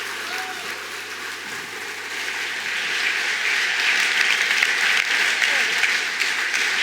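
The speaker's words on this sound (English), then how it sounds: "Come on, more rounds of applause, please." An audience at a JavaScript conference applauds after a talk, a dense, continuous wash of clapping that swells and grows louder partway through and holds steady to the end.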